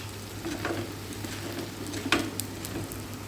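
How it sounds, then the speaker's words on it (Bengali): Egg roll batter sizzles in a hot pan on a low gas flame as a spatula drags it outward, a steady quiet frying hiss broken by a few soft scraping strokes. "এই দেখো আমি খুন্তি দিয়ে সব দিকে আমি টেনে দিচ্ছি"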